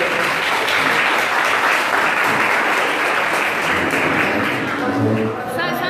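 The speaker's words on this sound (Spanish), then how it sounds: "Un aplauso para todos ustedes." An audience at an education forum applauds, with dense continuous clapping that holds steady for several seconds before thinning slightly at the end, while a voice speaks over it.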